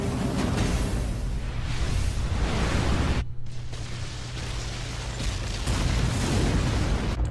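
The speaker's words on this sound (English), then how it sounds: "All right, Graz, blow the tunnels. Right. Initializing the explosion." Tunnels blown up in the animated film Fullmetal Alchemist: The Sacred Star of Milos, heard as a loud, sustained rumbling roar that cuts out briefly, then rolls on steadily.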